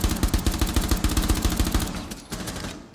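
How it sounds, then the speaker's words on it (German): Rapid automatic gunfire in Rainbow Six Siege rattles loudly and steadily at close range for a few seconds, a dense stream of sharp shots that trails off near the end. "Ich schieß einfach so."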